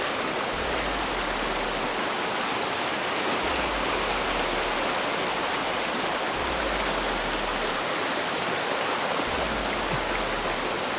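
A river flows in a steady, broad rush of water, loud and continuous all the way through with no talk, while a few dull low thumps stand out here and there.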